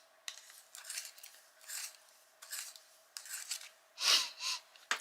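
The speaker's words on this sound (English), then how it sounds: "Just give it a sharpen." Manganese violet colouring pencil being turned in a handheld sharpener, a run of quiet, rhythmic dry scraping and rasping strokes close up, with a brief louder grind near the end and no talking.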